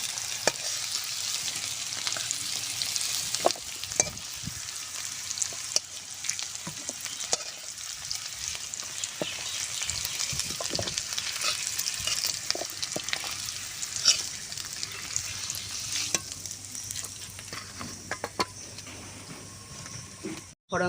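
Potatoes and jackfruit seeds frying in oil in a pan, a continuous crackling sizzle lasting throughout with occasional scraping clinks from stirring.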